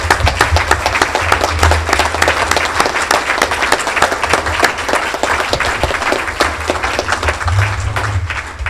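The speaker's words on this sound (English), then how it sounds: "give a big round of applause" A large club gathering of Kiwanis members gives a big round of applause at their new home: loud, continuous clapping from many hands, close and sustained with no letup.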